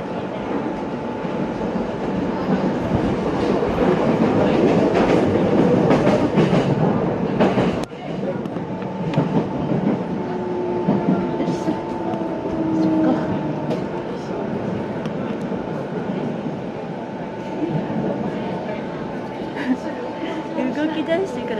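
A Japanese commuter train runs on its rails toward Kasai-Rinkai Park station, a loud rumble with rail clatter that eases after a sharp transient partway through, then a quieter steady hum with faint tonal whine under a recorded station announcement.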